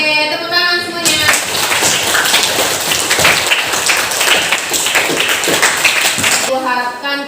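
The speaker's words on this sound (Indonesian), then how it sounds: "Oke, tepuk tangan semuanya." A classroom of students claps hands together in a dense, steady burst of applause lasting about five seconds, with a teacher's voice speaking briefly just before and after.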